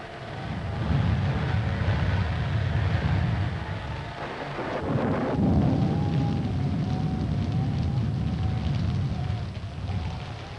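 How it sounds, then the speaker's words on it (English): A thunderstorm in a 1940s mystery film scene, with steady rain and deep rolling thunder filling the whole span, a low rumble swelling midway, heard alone without talk. "we'd better get out of here before this storm gets any worse"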